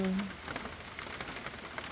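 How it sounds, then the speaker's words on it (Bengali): Light morning rain falling under a dark, overcast sky, a faint, even patter of drops on a surface with a brief low sound at the start. "সকালবেলা দেখো বৃষ্টি শুরু হয়ে গেছে"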